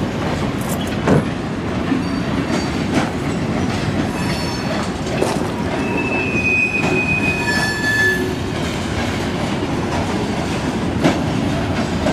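A freight train with a caboose rolls steadily past close by, a continuous rumble of wheels on rail with faint clicking joints and brief high metallic squeals drifting above.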